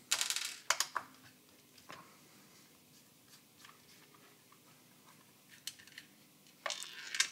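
Small screws come out of a TBS Mambo radio controller's plastic case, heard as sparse clicks, taps and light metallic ticks that are close but faint, clustered at the start and end with quiet handling between.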